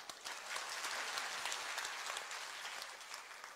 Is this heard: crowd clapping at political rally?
yes